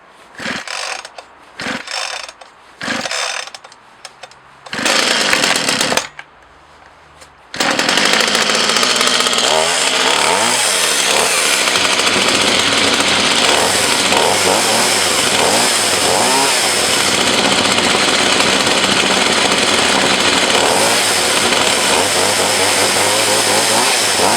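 A Partner 20 X Power chainsaw, with choke on and compression valve in, is pulled several times with sputtering bursts. It then catches and runs loud and close, the engine revving up and down with a rough, buzzing roar.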